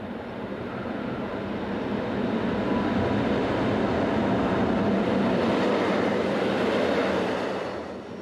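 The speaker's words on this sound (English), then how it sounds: "one of the most famous of all trains to operate in this part of Switzerland is the Glacier Express" Glacier Express train running through Switzerland, a steady rumbling roll of wheels and carriages that swells gently and holds, then eases toward the end, heard alone without voices.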